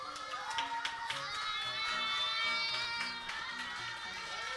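Applause and cheering from a church youth service audience welcoming guests up onto the stage, a steady wash of clapping with scattered shouts and background music tones running throughout.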